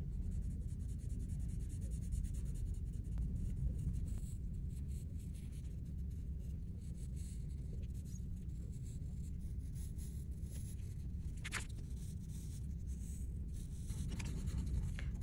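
Pencil shading on paper with the flat, worn side of the lead, a soft continuous scratchy rubbing in close, steady strokes.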